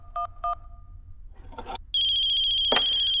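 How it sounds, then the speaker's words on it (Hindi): Phone ringtone: two short electronic ring bursts, a rustle, then a sustained loud tonal ring that cuts in and continues, in an indoor sitcom scene with no talk. "खिलौनी को फोन कर लेता हूँ यार"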